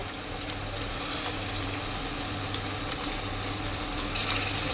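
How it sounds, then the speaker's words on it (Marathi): Hot water poured into a pan of mutton curry gives a steady, continuous gushing rush that stays loud and even from start to finish, with a low hum underneath and no speech. "पाणी ठेवते मटणामध्ये गरम पाणी टाकायचं असतं"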